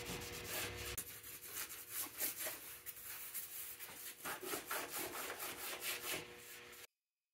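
Old brace and bit boring through plywood for a leg vise screw hole on a Moravian workbench, a rhythmic scraping and rasping of each turn, close and fairly quiet, stopping abruptly.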